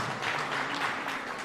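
An audience claps steadily through a live recitation contest for the regional language, a dense, even wash of applause at moderate loudness with no voices on top.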